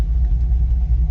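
A Corvette C6 Z06 sports car on a race track gives a steady, deep engine rumble at constant loudness, heard as a continuous low drone with no voices.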